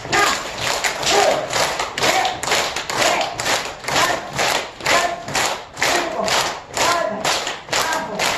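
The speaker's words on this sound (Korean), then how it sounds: "박수 치면서 그대로 걸으면서" Rhythmic hand clapping from a group walking in place during a stretching and health exercise class, steady beats about twice per second over a background of crowd noise and faint voices.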